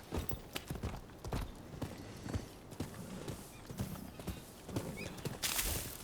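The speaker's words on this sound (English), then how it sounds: "call my horse here?" Rise of the Ronin video game: rhythmic clip-clop of horse hooves trotting, a steady beat of hoofsteps close by, with a brief whinny-like sound near the end.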